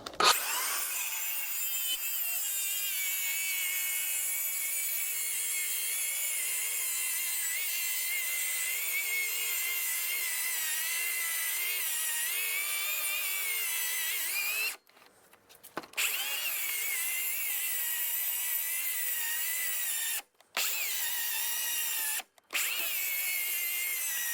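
A power saw blade cuts through damp timber on a house build, a loud continuous whining grind that runs for long stretches and stops briefly three times before resuming.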